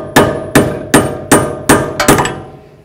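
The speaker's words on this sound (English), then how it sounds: "Give it a little bonk, breaks it free." A tool tapped along the edge of a front wheel hub cap on a 2005–2016 Ford Mustang to break it free: six sharp metallic knocks at a steady, roughly half-second rhythm, close and loud, each ringing briefly.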